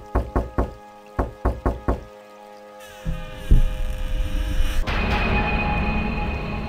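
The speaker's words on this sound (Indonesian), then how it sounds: "mereka segera mengetuk pintu." Knocks on a wooden door in two quick sets of three, crisp and close, followed by a low droning ambience that swells and lingers.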